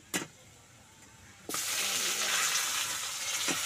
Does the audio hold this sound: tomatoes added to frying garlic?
yes